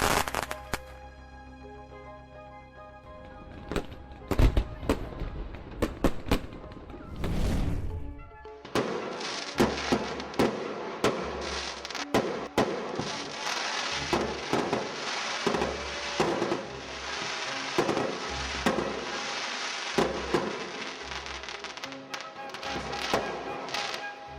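Fireworks launch and crack in quick bursts, a string of sharp pops and thuds at varying intervals, fairly loud and close.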